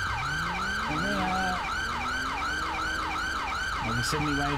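An ambulance siren in the GTA LSPDFR police game wails in a steady, rapid up-and-down cycle throughout, loud and close, with engine drone beneath and a brief change in tone near the end.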